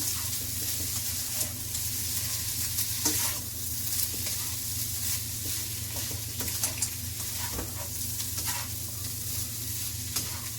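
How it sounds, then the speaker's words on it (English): Liquid aminos being stirred into an egg mixture, a steady wet swishing with small clicks of the utensil against the bowl, continuous and close over a sizzling kitchen background. "I'm going to stir it into the egg mixture"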